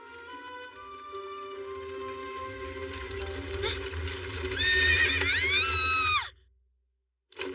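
A horse in an anime whinnies loudly over a low rumble of hooves and movement, then the sound cuts off abruptly into near silence.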